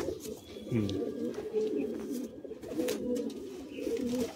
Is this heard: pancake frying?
no